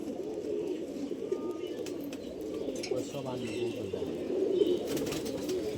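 A green-necked pigeon coos softly amid a dense, steady bed of pigeon murmuring in a loft, with a faint voice and a few light rustles.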